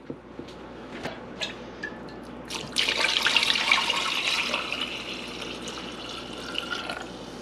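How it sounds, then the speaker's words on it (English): Water pours steadily into a pressure cooker pot, a rushing splash that starts abruptly after a few clinks and fades into a softer trickle, close and alone. "I got to add about 2 inches of water."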